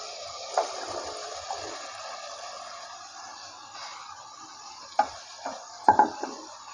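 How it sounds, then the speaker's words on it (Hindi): Half a kilo of bottle gourd sautéing in a pan, soft sizzling under scraping stirs, with a few sharp utensil knocks against the pan near the end. "अब हम इसमें ये हमारे पास आधा किलो घिया कद्दू है ये हम इसमें डाल रहे हैं"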